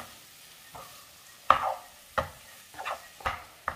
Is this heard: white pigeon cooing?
no